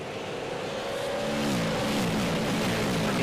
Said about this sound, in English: Gotta love that sound, that roar.